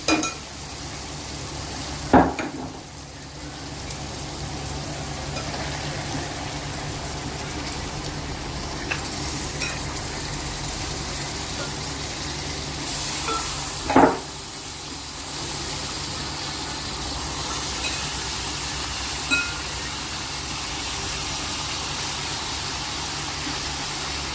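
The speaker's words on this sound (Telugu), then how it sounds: "ఇప్పుడు కడిగి పెట్టుకున్న మటన్ వేసుకోవాలి. వేస్తున్నాను." Washed mutton goes into a pan of frying tomato masala for Andhra goat curry, raising a steady loud sizzle with a couple of sharp stirring scrapes, close and continuous with no talk.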